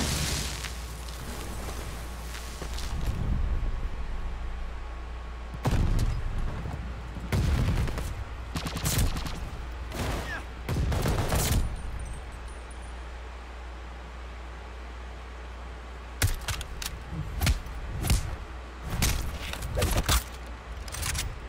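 Video game strafe run of gunfire and explosions, several heavy bursts of rapid booming fire separated by quieter stretches, loud and close over a low rumbling background.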